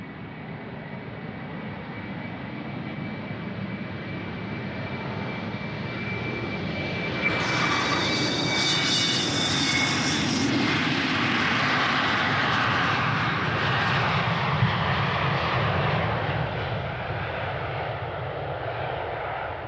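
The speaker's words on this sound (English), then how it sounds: "Now over to my right I can hear an airplane" A jet airliner's engines roar during a takeoff at Amsterdam Schiphol Airport from runway 36L, a steady broad rumble that swells louder partway through as the aircraft passes nearby, with no talk.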